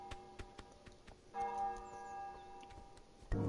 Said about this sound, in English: oh, there goes the bell